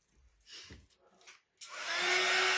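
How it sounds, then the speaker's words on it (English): A hair dryer switches on and blows steadily, loud and close, drying wet glue on a primitive snowman made over from a plastic snowman; quiet handling sounds come before it starts. "And I'll hit it with the dryer for a minute."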